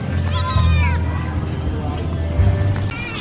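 A rescued kitten, caught in Angeles City in the Philippines, meows repeatedly and loudly at close range, with a rumbling engine-like hum running underneath.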